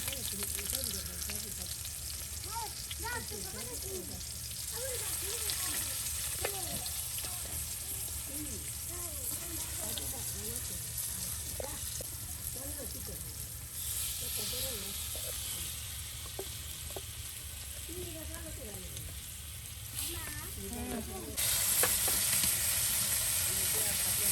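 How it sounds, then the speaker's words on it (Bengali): Fish frying in hot oil for a village-style meal, a continuous hissing sizzle that holds steady and swells louder near the end, with faint voices or other sounds drifting over it. "মাছগুলো বেজে নেওয়া হচ্ছে।"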